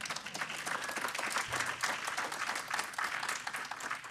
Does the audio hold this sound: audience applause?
yes